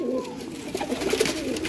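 Pigeons cooing in a loft, a few soft low coos in a row close by, continuing steadily over a faint background.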